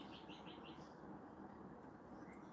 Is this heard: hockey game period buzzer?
no